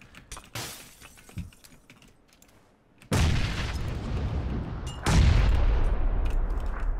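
Grenade blasts and gunfire in the battle royale game PUBG, quiet distant cracks at first, then two loud booming explosions that roar on, the second heavier than the first.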